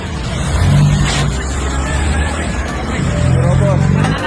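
A coal truck pushes through a residents' blockade, its engine swelling and revving as it rolls forward, with excited crowd chatter and shouting around it.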